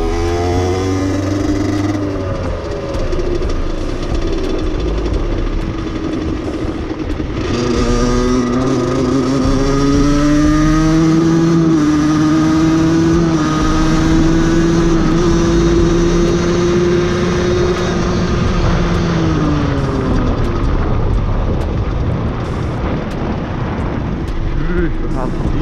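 An Aprilia moped engine drones loud and close as it rides slowly through a village, its pitch rising and falling steadily with throttle changes, accompanied by wind buffeting.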